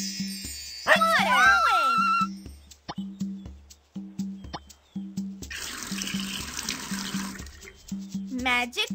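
Cartoon water in Dora the Explorer pours and trickles in a bright, sustained rush, set among splashy plops and chimes with a steady musical beat underneath.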